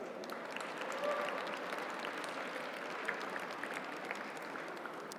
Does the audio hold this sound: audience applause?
yes